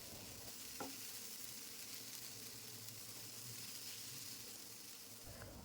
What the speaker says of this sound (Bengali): এখন লেবুর রস ওলের সাথে খুব ভালো করে মিশিয়ে নেব